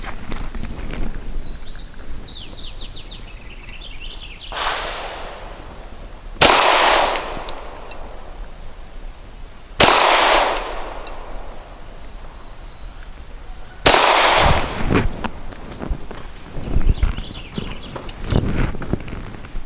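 A Canik TP9 Elite Combat pistol firing Barnaul polymer-coated steel case 115 grain ammunition at an outdoor range, with four loud, sharp reports spaced a few seconds apart and brief ringing tails over a quiet, windy background.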